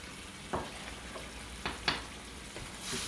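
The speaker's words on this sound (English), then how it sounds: "Stir that around a little bit." Shrimp stir-fry seasoned with soy sauce is stirred in a hot pan: a steady sizzle, with a few sharp utensil scrapes and knocks against the pan scattered through, close by and with no talking.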